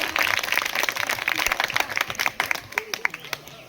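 Applause for the winning team at a primary school quiz competition, a brief burst of dense clapping from a crowd that thins into scattered claps near the end.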